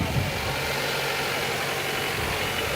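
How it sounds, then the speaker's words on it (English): A tractor decorated for a Grinch-themed Christmas parade in Kingston idles steadily, giving a continuous low rumbling drone with a faint vibrating texture and no talk over it. "I don't remember seeing this tractor in our parades of past, but he's got it decked out nice."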